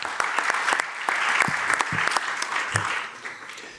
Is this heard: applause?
yes